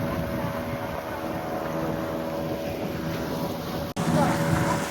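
A fishing boat carrying its catch toward Mangalore port: a steady, droning engine hum with wind buffeting the microphone, continuous throughout with a brief cut near the end.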